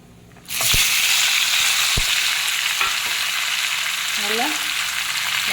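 Onion, tomato and pumpkin hit a hot pan and start sizzling loudly, a steady frying hiss with occasional clinks and stirring sounds.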